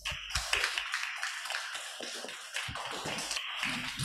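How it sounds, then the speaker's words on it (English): Audience members clap for participants and speakers at the close of a discussion event, a scattered, uneven round of applause with individual claps and taps, fairly close and not very loud. "let's join me to give a round of applause for our participants and speakers"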